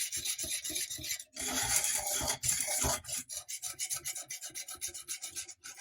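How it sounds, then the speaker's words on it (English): A whisk scrapes briskly around a pan of salted caramel sauce, a close, loud, steady rasping of rapid strokes, with one denser burst in the middle. "And whisk."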